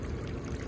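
Water pumped from a pool pours steadily into a pond, a soft continuous rushing trickle heard up close and fairly faint, with no talking.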